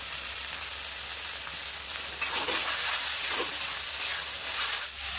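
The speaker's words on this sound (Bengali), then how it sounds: "দিয়ে এবার মশলাটা ভালো করে কষিয়ে নেবো আমি।" Spice masala with chilli paste, turmeric and salt frying in oil for a pangas fish curry, a steady close sizzle with a few soft scraping stirs, no talking.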